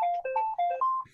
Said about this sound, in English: Live phone call.